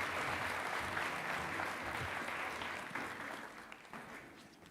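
Applause from the audience at the official opening of the Kalasha film and TV market, a quiet, distant wash of clapping that gradually fades.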